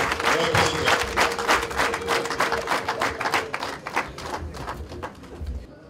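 Wedding guests applaud in a sustained round of dense clapping that holds steady before thinning out toward the end, with a voice talking over part of it.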